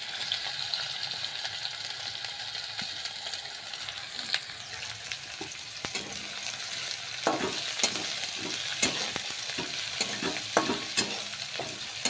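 Onion fries in a pan after garlic, a soft continuous sizzle at first; in the second half a spoon scrapes and taps against the pan in a quick repeated rhythm.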